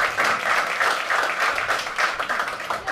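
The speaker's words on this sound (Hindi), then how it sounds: "ऐसे ये लव स्टोरी के लिए तालियां यार" A crowd at a stand-up comedy crowd-work show applauds a couple's love story in one dense, even burst of clapping that holds steady for the full three seconds, with no voices over it.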